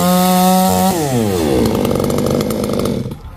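Chainsaw cutting through a coconut palm next to a wall, loud and close: a high steady whine, then the engine pitch drops and bogs as the chain bites into the trunk before it eases off near the end.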